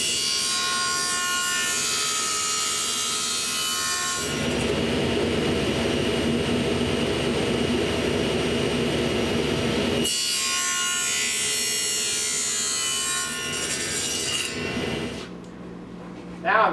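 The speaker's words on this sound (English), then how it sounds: "Now I'm cutting off the waste here for the cheeks of the tenons." A power saw cutting waste from the cheeks of wooden tenons against a clamped block on the saw fence, a steady loud whine with a heavier cutting roar in the middle, running continuously.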